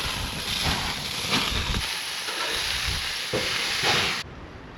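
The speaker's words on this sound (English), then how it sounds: "we got 6 burgers on, fish up top. I'll let that cook for a while." Burgers and butter-stuffed trout cooking on a camp grill outdoors give a steady, broad sizzling hiss that runs continuously, close and fairly loud, with a faint high whine over it and no talking.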